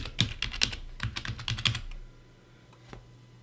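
A password being typed on a computer keyboard, with about a dozen crisp, close keystrokes in a quick uneven rhythm, followed by a quiet pause and one last faint key tap, no voices.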